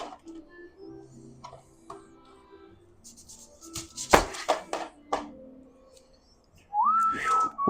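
Onions for southern collard greens are cut into quarters and smacked hard on a board, giving a short burst of sharp thumps and knocks after quieter handling, with a whistled tone near the end.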